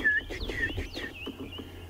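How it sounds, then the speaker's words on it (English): Bird calls near a leopard sighting at dawn in the Sabi Sand bush of South Africa, probably a canary: repeated thin, high chirps and whistles from the bush, moderately loud and close, without voices. "sounds like one of the canaries making quite a lot of noise"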